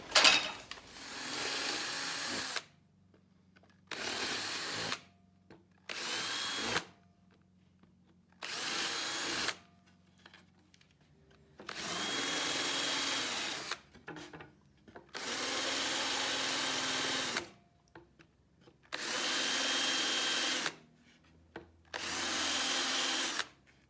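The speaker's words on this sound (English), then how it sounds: "I'm going to use a bigger bit to go through here, and then I'm going to countersink it" A power drill runs in repeated bursts of a few seconds each as a bigger bit bores through stock for a circular blade sharpener build, with short pauses between passes and no talking.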